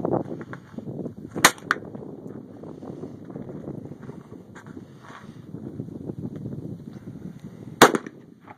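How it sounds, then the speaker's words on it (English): Two sharp .22 rifle shots fired outdoors several seconds apart, each a brief crack over a steady background of wind noise. "This is Jaci shooting a 22."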